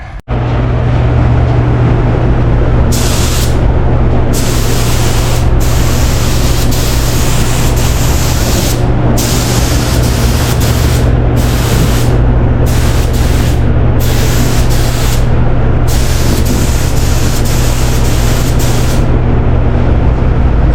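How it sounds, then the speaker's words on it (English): A spray gun with a disposable cup sprays epoxy primer on a 1962 Impala firewall, giving a loud, continuous hiss with repeated bursts of airy spray and brief pauses between passes, close and with no talk. "put it in the gun, spray it"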